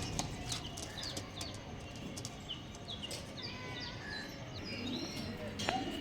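Pigeons in a kept flock coo softly with scattered chirps and tweets, faint and somewhat distant over a low background hum.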